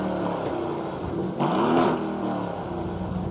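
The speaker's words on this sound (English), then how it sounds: "push the winged starter button in the centre of the dash and the snarly 4-litre twin-turbo V8 springs urgently into life" A 2022 Aston Martin Vantage's snarly 4-litre twin-turbo V8 fires up after a press of the starter button, giving a loud close rev that swells and settles back into a steady idle.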